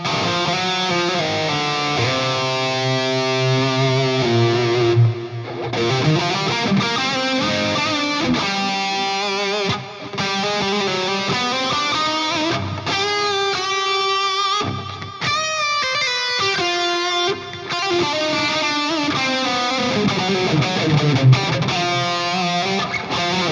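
Smooth electric guitar lead played through an ENGL amp with ping pong delay and reverb, sustained melodic notes bouncing with echo tails, loud and continuous on its own.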